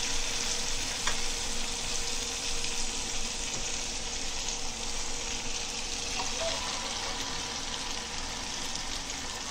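Chicken frying in a pan for chicken rara, with green chillies and coriander: a loud, steady, dense sizzle runs unbroken throughout, with a couple of faint clicks and no talking.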